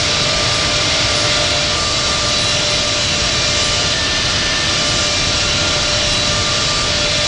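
A jet airliner takes off from Atlanta's airport with a loud, constant engine roar and whine heard from inside the cabin, steady for the whole stretch.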